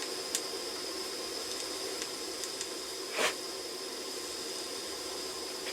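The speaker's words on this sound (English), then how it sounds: "In fact, they're just blowing off gently now." Safety valves on a scratch-built gauge 1 live steam locomotive blow off gently, producing a steady close hiss at about 70 psi with a few faint ticks and one brief louder puff.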